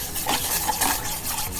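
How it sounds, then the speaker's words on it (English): Stirring methi mudde, a thick fenugreek and millet dough, in a pot as it boils: continuous close scraping and soft squelching with a faint bubbling hiss, no voices. "okay, I'm gonna stir this"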